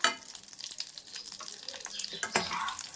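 Dried red chillies sizzle and crackle softly in hot oil, with occasional stirring scrapes.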